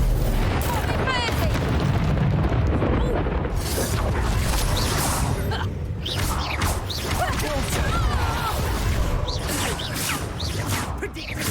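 Confringo fire spells exploding during a Hogwarts Legacy duel, with booming blasts and crackling magical effects running continuously under spoken spell incantations.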